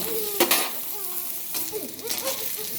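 Capsicum fries in a pan with a soft continuous sizzle, a couple of sharp spatula scrapes and faint stirring, close by with no voices.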